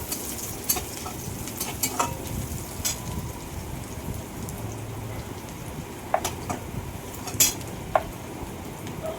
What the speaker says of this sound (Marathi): चिली फ्लेक्स पण चांगले तेलात परतून घ्यायचे